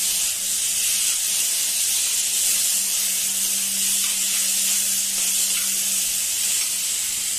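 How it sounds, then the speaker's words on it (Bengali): Vegetables with beans fry in a hot pan for a soupy noodle dish, giving a loud, steady sizzle and hiss of steam that carries on unbroken throughout. "তারপরে আমি জল দেবো।"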